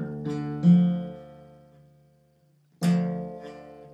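Two plucked guitar chords ring out clearly, each struck then left to decay, with a pause of near silence between them. No voices.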